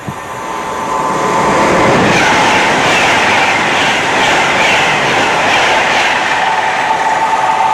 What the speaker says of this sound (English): so now we've got Pendolino's passing